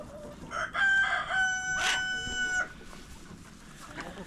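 A rooster crows loudly once, with hens clucking and calling around it in a busy farmyard.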